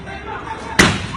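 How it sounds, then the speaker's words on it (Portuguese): A gunshot goes off during a police chase in Teresina, Piauí, one sharp, loud bang cracking out amid excited voices and street noise. "Bala de novo."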